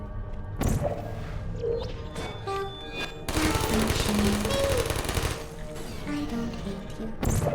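Automated turrets shooting in the video game Portal, fast rattling gunfire in sustained bursts with clanks and thuds, loud and close amid game sounds, with robotic voices and tonal chimes around.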